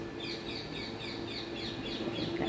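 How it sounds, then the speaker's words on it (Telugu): Parrots calling near a home in the morning, a steady run of repeated shrill chirps at moderate distance over a constant background hum. "చిలుకలు చూడండి ఈ పిట్ట విన్యాసాలు భలే వేస్తుంది"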